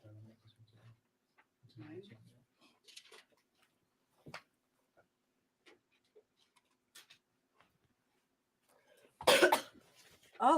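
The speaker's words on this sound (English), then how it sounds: "Somebody has a cough." A single harsh cough bursts out near the end among sparse taps and small noises in an otherwise quiet room during a deposition, followed by a brief second sound; a voice speaks faintly earlier.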